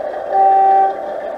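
Class 25 diesel locomotive horn on a model railway sounding one steady, sustained two-tone hoot of about half a second, loud and close over a low running hum, with no talk.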